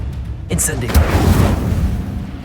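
The Incendio fire spell in Hogwarts Legacy ignites with a sudden loud whoosh and a deep, rumbling roar of flame that holds steady for a couple of seconds.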